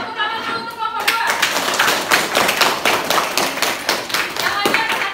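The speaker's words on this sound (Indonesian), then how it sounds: "tepuk tangan dulu untuk kelompok 2." Students in a classroom clap for a group, a few seconds of brisk, close clapping after a voice calls out, with speech at the start.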